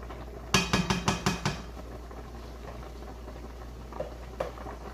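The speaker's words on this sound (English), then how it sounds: "Just trying to flip some of them over to make sure that they get evenly cooked." Shrimp are flipped in a cooking pan, making a quick run of five or six close, crisp metallic taps and scrapes, followed by a steady low sizzle with a couple of faint later clicks.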